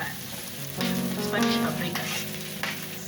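Spanish paprika hits a frying pan with spring onions and sizzles, a steady close hiss that swells briefly when stirred over a few seconds.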